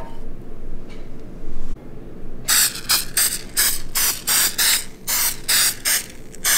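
Aerosol spray can hissing in a run of repeated short bursts, about ten loud close sprays in an uneven rhythm, with no talk over them.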